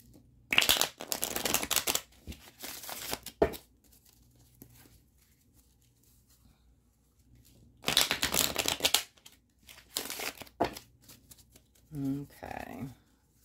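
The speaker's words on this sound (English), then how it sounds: "And then I'll start shuffling." Tarot cards are shuffled by hand in close, crisp riffling bursts, separated by quiet pauses, with a brief voice near the end.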